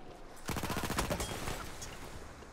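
Gunfire in Battlefield 1 erupts as a burst of rapid shots with a ringing tail, heard fairly faintly and fading out with no talk over it.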